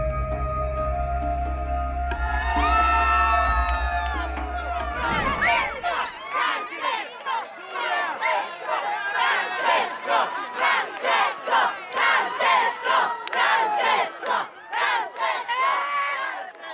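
Large crowd in St. Peter's Square in Rome cheering and chanting for the Pope, a loud rhythmic roar of many voices that swells in repeated surges, following a few seconds of sustained music and tones.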